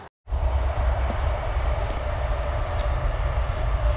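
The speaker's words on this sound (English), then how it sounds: "I hope you don't mind the sound of trains," A train rumbles past close to an abandoned farmhouse campsite, a loud continuous roar of wheels and rail noise with heavy low-end throughout after a brief silence.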